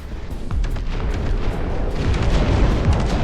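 Artillery fire and explosions in the real-time strategy game Dust Front RTS: a continuous rumble of deep booms with repeated sharp cracks and bursts layered on top, loud and without speech.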